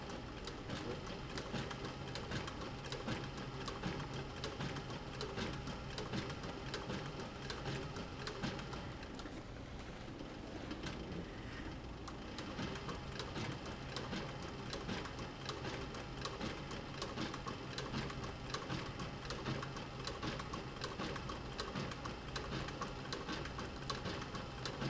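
A sewing machine back-stitches a leather camera bag, running in a steady, fast mechanical patter that continues almost without pause and eases briefly midway.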